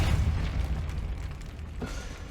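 Depulso spell cast in the video game Hogwarts Legacy, a deep booming blast with a rumbling low end that trails off, followed by a second softer whoosh near the end.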